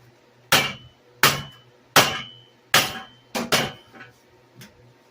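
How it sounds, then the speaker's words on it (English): Sharp metal hammer blows struck against a lawnmower engine during a two-to-four-cycle engine swap, about six loud impacts at a steady, slightly quickening rhythm, each ringing briefly before fading, the last two weaker. "Sometimes a hammer is all you need"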